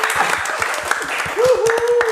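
Brief scattered clapping from a small group at a chat event, close and lively, with voices talking over it.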